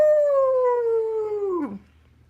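A person's voice imitates a wolf-like howl, one long sustained tone held steady and close before bending down and breaking off, with no other sound around it.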